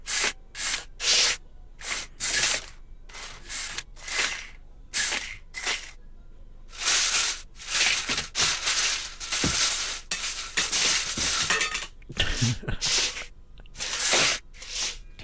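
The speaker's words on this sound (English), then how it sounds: "Do you guys mind if I struggle to open these blinds?" Window blinds in an animated cartoon are yanked and struggled with, giving repeated bursts of scraping, rattling rubs in uneven clusters, close and fairly loud, with no talking.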